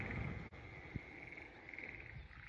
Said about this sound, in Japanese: ずーっとカエルが鳴いてて気持ちがいいっすね。